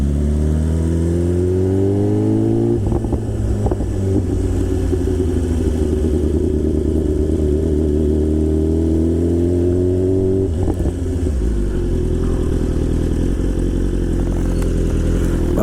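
A motorcycle ridden near Kintai Bridge in Japan, its engine loud and close, revving up and dropping through gear changes with a steady mid-pitched drone and brief throttle lifts, no voices.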